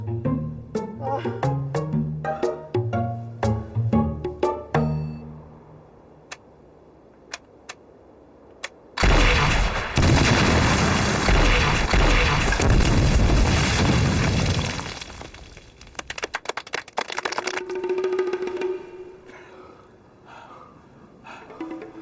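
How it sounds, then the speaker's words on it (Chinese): Artillery shells explode amid gunfire in a military drama battle scene: sharp rapid cracks give way to a long, loud roaring blast with crashing debris, then scattered impacts and settling rumble. "打完子弹还不够，还打起炮弹来了"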